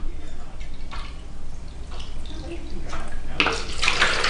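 Lukewarm water pours steadily into a measuring jug, a continuous splashing trickle that gets louder and brighter toward the end.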